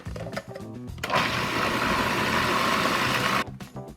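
A countertop blender whirs steadily for a couple of seconds while mixing quiche batter, a loud even motor roar that starts abruptly and cuts off, with clatter of handling before and after and no talking.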